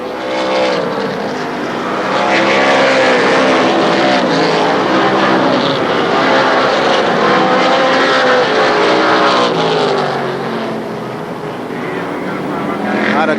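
Stock cars racing around the Shadybowl Speedway oval, a loud continuous roar of several engines with shifting pitches as the field passes, with a commentator talking over the noise.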